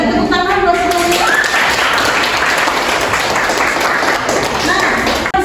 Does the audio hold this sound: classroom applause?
yes